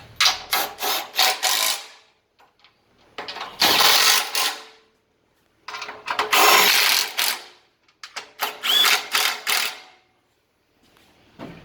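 A power tool tightens bolts on a crossmember bracket for a 1941–1948 Chevy front suspension, firing in four loud rattling bursts of a second or two each with silent gaps between, nearby and clear.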